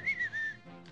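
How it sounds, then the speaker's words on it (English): A person gives a short code whistle, a bright rising-then-level tone held for about half a second, close and clear with no talking. "That was a code whistle."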